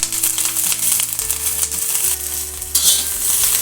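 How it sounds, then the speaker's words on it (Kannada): Green chillies fry in cooking oil in a pan with a close, steady sizzle, broken by the scrape and clatter of stirring. "ಮೆಣಸಿನ್ಕಾಯಿ ನೀಟಾಗಿ ಹಸಿ ವಾಸನೆ ಹೋಗೋವರೆಗೂ ಹುರಿಬೇಕು."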